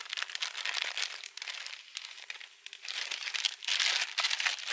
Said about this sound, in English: I don't know why I put it in a plastic bag